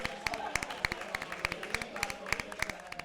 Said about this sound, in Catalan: un fort aplaudiment per ella